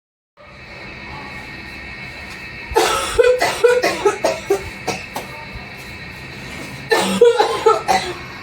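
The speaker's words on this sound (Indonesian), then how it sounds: "Masih batuk ya, Ma?" A woman coughs in a rapid series of harsh, close bursts, goes quiet for a stretch, then coughs again in another short fit over steady room noise.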